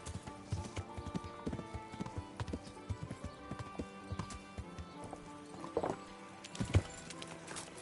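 Rhythmic clip-clop of horse hooves in the video game Kingdom Come: Deliverance, close and fairly loud, with a brief whinny near the end.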